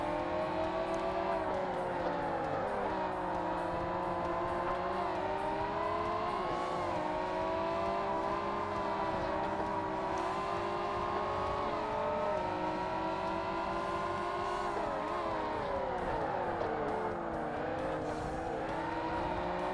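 Race cars in Forza Motorsport, a Pagani Zonda among them, drone steadily with high engine whine rising and falling through gear shifts as cars close in and overtake, continuous and fairly loud without voices.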